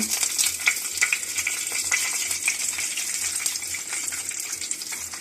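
Mustard seeds, cumin and green chilies hit hot oil for a dosa topping, making a steady hiss of frying with small crackles and popping spatters throughout, close and fairly quiet.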